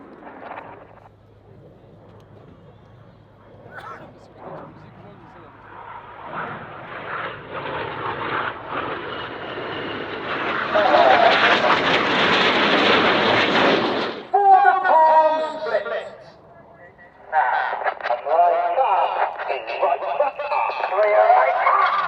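Red Arrows jets perform a flying display at the RIAT 2025 airshow, their engines building into a loud, sustained roar with crackling bursts as the formation passes, then fading and returning, while a commentator talks over it.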